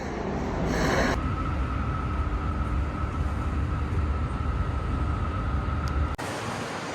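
A train pulls through an airport-line station serving Narita airport, a steady rumbling roll with a sustained tonal whine, cutting off abruptly near the end to quieter ambient station noise.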